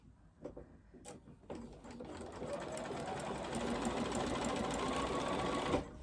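A sewing machine with a Bernina 71 foot stitches quilt binding back on, starting with a few uneven bursts and then running steadily and loudly at close range before stopping abruptly.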